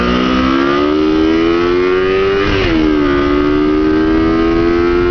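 A Kawasaki Ninja 250 sport motorcycle engine holds a high, steady buzzing rev, dips briefly as the throttle blips midway, then settles back to a constant high-pitched drone, loud and close with no talking.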